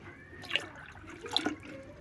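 Water pours from a plastic bottle into a pigeon waterer, with a soft steady trickle and two brief louder splashes over low background noise.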